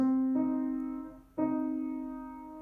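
A sustained two-note interval at a 5:6 frequency ratio played twice, the second sounding after a brief dip in level, clear and steady with no talking.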